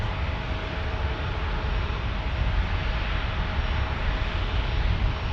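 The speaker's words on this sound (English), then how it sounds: "we also have landing momentarily United 1281 from Denver on a 737-800" A Boeing 737-800 airliner lands during night planespotting at San Diego, its engines a loud, continuous broadband roar that holds steady throughout, with no voices over it.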